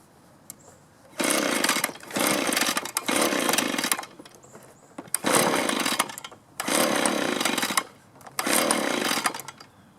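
Small engine of a leaf blower or trimmer running on half choke, sputtering and snarling in several uneven bursts that rise, stumble and die back to near silence between them, close and loud.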